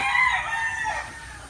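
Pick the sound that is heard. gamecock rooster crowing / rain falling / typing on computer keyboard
gamecock rooster crowing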